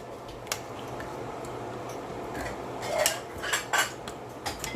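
Sweet potato casserole is stirred in a bowl, giving soft squishy mashing under a faint room hum, with a few sharper clicks of a utensil against the bowl near the end.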